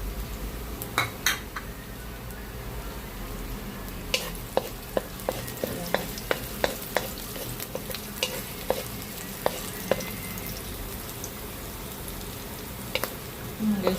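Garlic and onion sautéing in a wok for chop suey, a steady sizzle broken by sharp clinks and scrapes of a spatula stirring against the metal, close and fairly loud with no talking.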